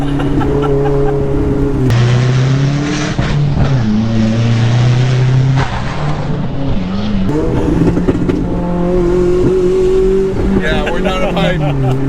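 Engine and road noise from a 900 hp Mitsubishi Evo that has lost an intercooler pipe, driving near a supercharged V8 Camaro ZL1, heard from inside with steady droning engine tones rising and falling as people talk over it throughout.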